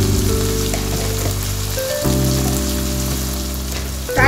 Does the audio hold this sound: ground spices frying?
yes